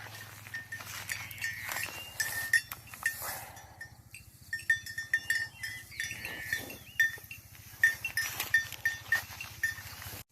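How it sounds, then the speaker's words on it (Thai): A young water buffalo calf plays in water at a Thai buffalo sale, with soft splashing and animal movement, faint bell-like clinks and intermittent thumps; no talking. "นี่ตัวน้อยมาเล่นน้ำครับ"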